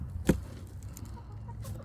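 Hens at their laying nest give one sharp, close cluck, then softer low murmuring clucks in a quiet rural setting.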